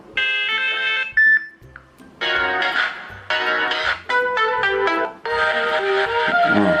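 Facebook Messenger ringtone previews play from a phone speaker as a series of bright, melodic electronic chime phrases separated by brief gaps, loud and close, with no talking.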